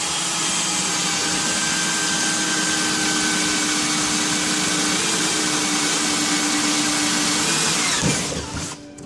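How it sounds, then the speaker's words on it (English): A steady, high-pitched whine of a power drill boring a hole in an aircraft wing's main spar, running continuously for several seconds, then winding down abruptly near the end. "drilling a hole in your main spar."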